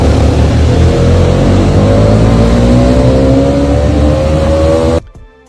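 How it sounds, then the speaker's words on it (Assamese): A motorbike ridden through a mountain tunnel in Arunachal, its engine a loud, steady drone with a slowly rising pitch and a boomy, enclosed echo, cutting off abruptly near the end. "গাইজ, ফাৰ্ষ্ট টাইম আজি টানেলৰ ভিতৰত বাইক চলাম"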